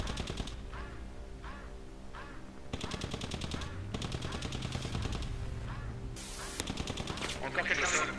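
Bursts of automatic rifle fire crackle repeatedly in a Squad military shooter battle, rapid rhythmic shots with heavy engine-like rumble underneath, sustained across the clip with distant explosions.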